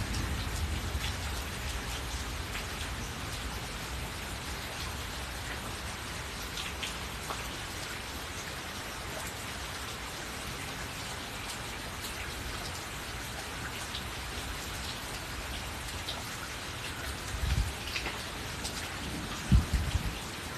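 A rainstorm with thunder: constant heavy rain hissing on surfaces throughout, with a couple of low thunder thumps rolling in near the end and no talking.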